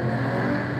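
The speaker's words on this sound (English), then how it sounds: "It's about loud car o'clock." A loud car revs outside, a dense, continuous engine roar that stays steady and strong through a short moment with no speech.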